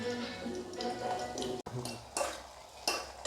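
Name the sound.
frying onions and tomatoes in a pan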